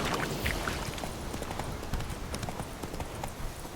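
Roach, a horse in The Witcher 3 video game, gallops with a steady, rapid clip-clop of hooves that stays close and continuous, with faint background noise.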